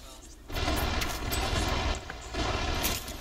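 Rapid gunfire from Apex Legends strikes a Rampart turret, a dense continuous burst of shots with short lulls, loud and close, with game effects layered over it.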